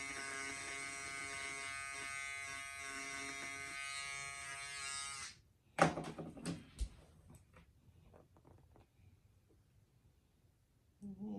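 A sewing machine stitching yarn embroidery runs with a steady, close mechanical whir for about five seconds, then stops, followed by scattered clicks and knocks of handling the bobbin area and fabric.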